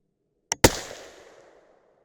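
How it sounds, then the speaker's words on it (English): A 6.5 Creedmoor rifle loaded with a 140-grain Barnes Match Burner bullet over 36.0 grains of N550 powder fires with a brief hang fire: a sharp crack, then a second louder close blast a split second later, trailing into a fading echo. "That felt like a hang fire, just a very brief hang fire."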